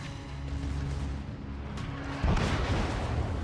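A Tier 10 Massachusetts battleship blows up in the naval battle game World of Warships: a sudden heavy blast cuts through a rumbling battle din and leaves a loud, roaring wash of noise.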